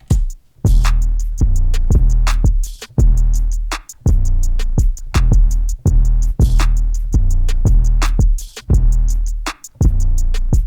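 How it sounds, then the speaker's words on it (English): A simple 808 drum pattern loops steadily, with deep booming kicks and crisp hi-hats ticking in a regular rhythm, no voices. "And then with the drums, I added this very simple but well mixed 808 pattern."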